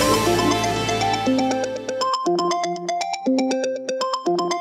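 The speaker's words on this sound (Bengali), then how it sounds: "ফোন" A phone ringtone plays a repeating melodic pattern of bright tones in steady bursts, preceded by a brief stretch of mixed indoor noise.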